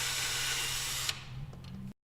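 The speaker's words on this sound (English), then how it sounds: "Drill pilot holes for all 4 holes for each handle." A power drill runs continuously at a high steady whine while boring pilot holes into a wooden split barn door for handle screws, then cuts off abruptly.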